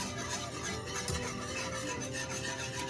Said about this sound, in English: we're just going to keep on whisking and see how it's thickening up a little bit